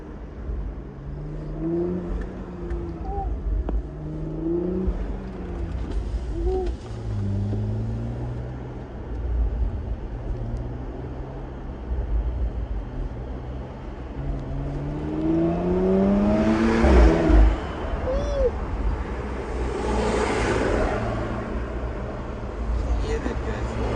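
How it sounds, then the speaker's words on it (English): A 2018 Porsche Macan GTS engine revs while driving, a steady low drone rising into louder surges in the middle and later stretch, with engine tones sweeping up and down as it accelerates. "I'm just gonna keep quiet for a bit so you can just hear the car a bit."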